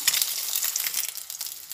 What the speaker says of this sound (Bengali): ডিমগুলো ভেজে নিচ্ছি ভালোভাবে